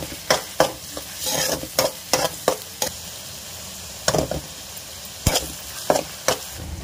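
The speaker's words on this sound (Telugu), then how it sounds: "కడాయి పెట్టి తగినంత ఆయిల్ వేసుకోవాలి. ఆయిల్ వేడైన తర్వాత ఉల్లిపాయ" Onions fry in hot oil in a kadai for chicken fry, a soft sizzle punctuated by sharp, irregular clanks and scrapes of a spatula stirring against the metal pan.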